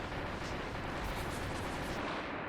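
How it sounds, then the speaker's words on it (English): A cannon firing in Kirby Star Allies, a dense steady roar of booming blasts that fills the whole moment at constant loudness, close and continuous. "Yeah, there's the cannon."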